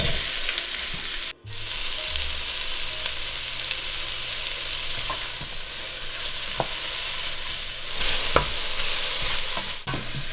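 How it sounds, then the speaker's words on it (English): Red onion sautés in hot oil in a high-walled pot, a loud, dense, continuous sizzle broken by a few sharp clicks of stirring, with no voices. "I'm gonna saute this red onion. Get some oil in the pot."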